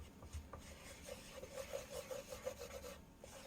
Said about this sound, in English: I'm just scraping the bottom with the wooden utensil because, like Uncle Roger would say, no metal utensils in a non-stick pan.